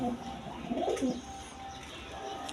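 Indian Kal Dom pigeons give a soft, close coo lasting about a second against a faint, steady background murmur.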